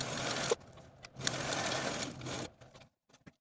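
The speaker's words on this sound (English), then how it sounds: "Now we can take it to our machine and edge stitch the sides and bottoms with about 1/8 inch seam allowance." A sewing machine edge-stitches the sides of a fabric tote bag in two quick bursts of rapid stitching, then stops and gives a few soft clicks before going quiet.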